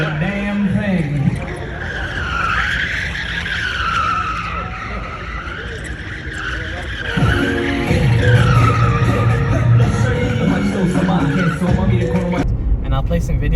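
A Tesla drifting, its tires skidding and squealing in long wavering screeches with engine and road noise, loud and close throughout, rising in intensity partway through.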